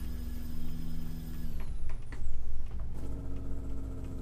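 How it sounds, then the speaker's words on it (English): Truck engine brake in Euro Truck Simulator 2, a loud steady droning rumble that drops in pitch partway through, then a rising mechanical whine and a renewed low engine hum, with no talk. "I do like the Jake brake though, or the engine brake, whatever you call it. It's got a nice sound to it."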